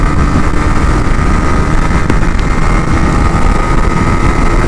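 A Honda CBR 150R motorcycle engine drones loudly and steadily while riding, a constant close-up roar mixed with wind rush and no speech.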